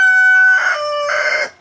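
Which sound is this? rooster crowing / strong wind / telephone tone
rooster crowing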